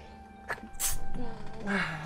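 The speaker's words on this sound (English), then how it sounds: "I gotta sneeze" A single person's sneeze, a brief sharp burst with a breathy intake just before, close to the microphone during a game livestream.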